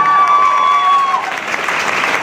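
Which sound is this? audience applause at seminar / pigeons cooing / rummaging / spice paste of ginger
audience applause at seminar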